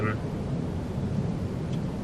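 Steady rain falling in the Farming Simulator 22 video game, a dense continuous hiss with low rumble throughout, fairly loud and unbroken with no one speaking.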